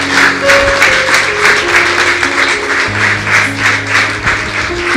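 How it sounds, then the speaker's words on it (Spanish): Church congregation at a Sunday service claps in praise to God, a rhythmic, even clapping pulse over sustained organ or keyboard tones, with no speech. "Pues darle un aplauso a Dios."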